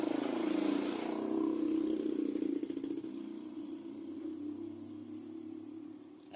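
A motorcycle engine drones loudly along a roadside in rural Bangladesh, then fades as the bike moves away, leaving a lower steady rumble.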